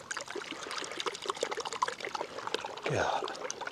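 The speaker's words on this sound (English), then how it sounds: "So we'll bang a bit of detergent in. Agitate some bubbles." Water sloshes and trickles as detergent is agitated into bubbles in a Sea to Summit collapsible kitchen sink with taped seams, a close, continuous splashing with a louder surge near the end.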